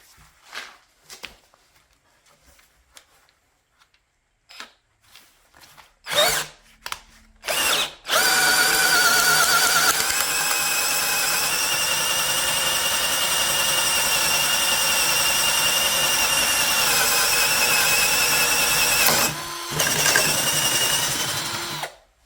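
A pink Deko 20V cordless power drill on speed 1 spins up after some quiet handling clicks and runs with a loud, steady, high motor whine for about fourteen seconds, dipping briefly near the end.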